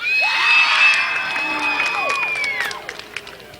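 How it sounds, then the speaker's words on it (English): Speedway grandstand crowd at a Midvale Speedway race reacting to the winning driver, a loud, continuous wash of cheering, whoops and shouts with mixed booing, swelling early then thinning out. "you got some boo birds and you got some cheers"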